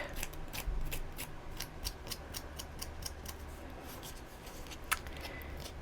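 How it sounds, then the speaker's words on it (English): Quiet, rapid snips of scissors roughing up the edges of paper, in a steady crisp rhythm with a faint rustle underneath. "So I'm going to rough up the edges with my scissors"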